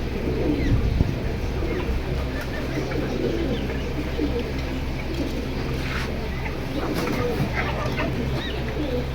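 Pet pigeons in a keeper's loft coo continuously, a soft low, murmuring drone close by, with people talking intermittently over it.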